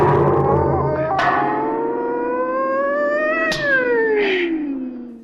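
A voice imitates a cat, drawing out long wavering meows and yowls that rise and slide down in pitch, loud and close.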